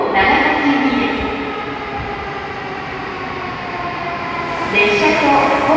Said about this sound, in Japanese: 12番乗り場に到着の列車は13時15分発かもめ25号長崎行きです。